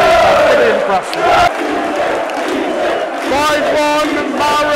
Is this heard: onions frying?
no